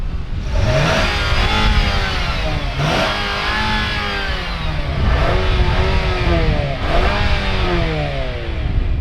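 A 2022 Nissan Altima or Sentra engine revs repeatedly through its exhaust, rising and falling in several loud, close pulls over a steady idle.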